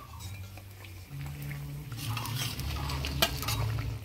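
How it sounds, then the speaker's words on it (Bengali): Fried fish roe is added to an eggplant curry in a pot, giving soft stirring and scraping over a low simmer, with a few light metallic clinks of utensil on pot. "ডিমগুলো দিয়ে দিলাম, এবারে ঢাকা দিয়ে দেব।"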